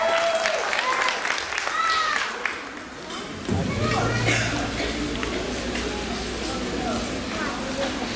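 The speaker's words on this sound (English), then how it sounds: "Let's give them a big round of applause." Children and adults clap for a group of grades 3 through 5 at a vacation Bible school presentation in Detroit, with applause mixed with talk and voices before a voice continues over fading clapping.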